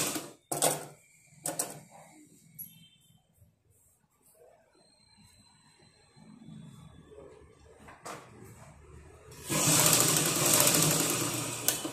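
A sewing machine stitches in a few short bursts early on, then after quieter handling noises runs in a longer, louder steady whirring stretch near the end.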